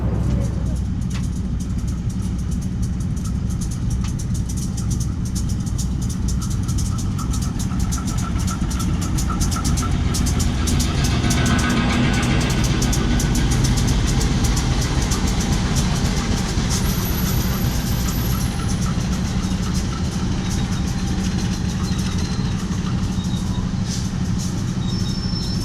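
Sri Tanjung passenger train pulling into track 2 at Pasuruan station, a steady low rumble of wheels and engine that holds throughout, with a faint brake squeal partway through and voices talking over it.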